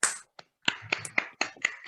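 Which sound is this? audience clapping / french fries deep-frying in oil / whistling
audience clapping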